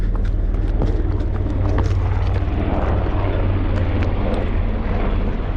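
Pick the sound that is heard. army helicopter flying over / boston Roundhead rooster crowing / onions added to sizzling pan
army helicopter flying over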